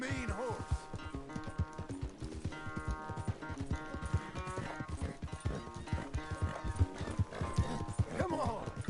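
Horse hooves clip-clop in steady rhythm, with whinnies, in the Red Dead Redemption video game, heard over harmonic game music and loud throughout.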